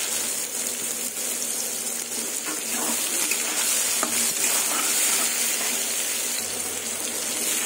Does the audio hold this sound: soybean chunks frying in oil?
yes